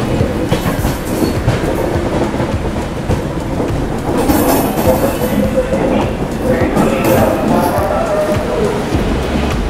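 A train departs Tambaram station in Chennai, its wheels rumbling and clattering loudly over the rails with steady clickety-clack and occasional squeals, close by and continuous throughout.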